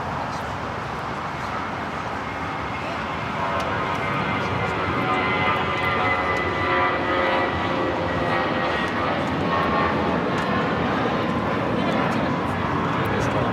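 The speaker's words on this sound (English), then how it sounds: "565 taking off to Houston Intercontinental on the A320" A Spirit Airlines Airbus A320 takes off from Los Angeles LAX for Houston, its jet engine roar swelling after a few seconds and then holding loud and steady, with voices talking over it.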